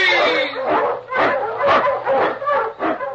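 Husky sled dogs bark in a burst of several yaps and yips in an old-time radio drama set in the Yukon snow, loud and close with a voice shouting over them.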